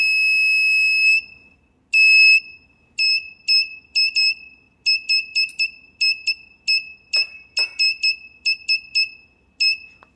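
A shrill electrical conductivity tester buzzer, testing salt, sounds in a long tone, then in many short, irregular bursts, loud and close, with a couple of faint clicks mixed in.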